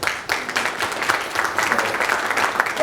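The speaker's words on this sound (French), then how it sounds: "quand je vois ce docteur Cabot qui applaudit" Applause from a Doctor Cabot, a brief patter of clapping hands with a roomy, crowd-like wash, moderately loud and continuous for a few seconds.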